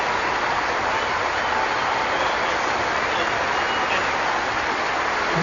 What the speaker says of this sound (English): he's getting a standing ovation from the majority of the crowd here